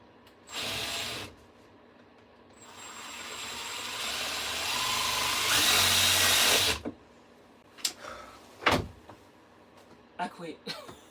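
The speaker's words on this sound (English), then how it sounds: "This thing is hard to screw over your head." Cordless power drill driving screws overhead inside a van being converted into a tiny home, with a short whir, a longer rising spin, then scattered clunks and bumps; no words spoken.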